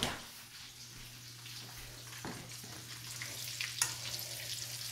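Cassava cake frying in hot oil, a quiet continuous sizzle with a couple of sharp crackles and pops, heard alone without voices.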